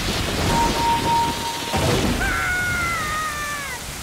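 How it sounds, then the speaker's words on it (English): A lightning strike blasts open a grave in The Legend of Zelda: Ocarina of Time, a rumbling boom followed by rising, warbling magical tones that ring out and fade. "we just desecrated a grave by blowing it up with lightning"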